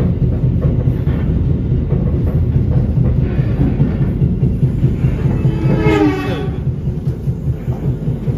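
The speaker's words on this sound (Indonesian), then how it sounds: "ini kereta manahannya pakai CC 203" A Manahan passenger train hauled by a CC 203 diesel locomotive rumbles steadily and loudly, with a continuous rolling roar of wheels on rails and a brief wavering tonal sound near the middle, heard from close by without speech.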